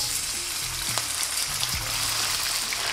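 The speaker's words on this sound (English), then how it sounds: "Now when the oil is nice and hot, we're gonna throw in our lamb." Pieces of lamb fry in hot oil in a pan on medium-high heat, a dense, steady sizzle close up with a couple of brief stirring clinks and no talking.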